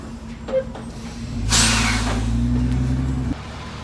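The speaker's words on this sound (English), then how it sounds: "We had air releases for those air brakes." A stuck semi truck's air brakes let out a loud, sudden hiss of released air over the low drone of the idling diesel engine, then the hiss cuts off abruptly.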